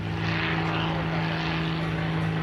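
A Helio H-295 propeller airplane at full power during a short field takeoff, with a loud, steady engine drone and propeller roar, a strong low hum held constant throughout and no talking.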